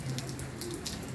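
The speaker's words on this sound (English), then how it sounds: "So we are getting some of the storm now. It's kind of on and off. Heavy rain." Heavy rain from a passing April storm patters steadily on surfaces, a faint continuous hiss with scattered drops and no voices.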